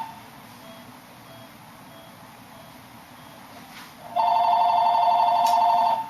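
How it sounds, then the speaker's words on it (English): A telephone starts ringing during an algebra lecture, a loud, steady electronic ring tone that begins abruptly after a few seconds of quiet room noise and continues to the end. "Let's disregard the phone."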